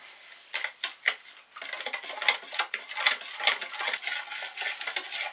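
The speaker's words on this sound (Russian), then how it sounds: "Перемешиваем." Sugar and salt being stirred together for cinnamon bun dough make a close, scratchy granular scraping with quick irregular ticks and taps against the bowl, continuing steadily with no voices.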